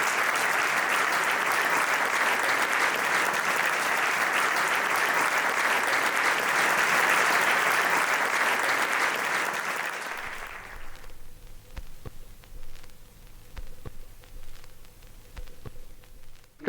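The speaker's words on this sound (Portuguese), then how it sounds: "Um aplauso pela vossa presença." Sustained applause from a large audience, loud and even for about ten seconds, then fading out into quiet room sound with faint rustling.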